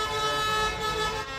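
Horns on trucks blare continuously during a protest parade in Asunción, Paraguay, a loud, sustained honking of several overlapping tones, close by with no speech.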